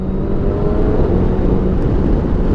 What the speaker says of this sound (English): Change up gear a little bit. Third gear, roll on.